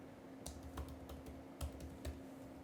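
Computer keyboard keys clack in uneven little clusters while coding a React portfolio website, soft and close, with several slightly heavier keystrokes among lighter taps over a steady low hum.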